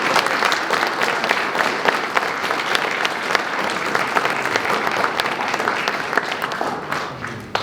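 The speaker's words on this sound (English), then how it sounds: "Give them all a round of applause." An audience at a university history department recognition ceremony applauds its honorees, a loud, steady wash of many hands clapping evenly from start to finish.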